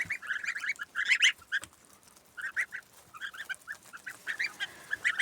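Goslings peep and chatter in short high-pitched bursts, close by, while eating alfalfa, with soft scattered calls and quiet gaps between them.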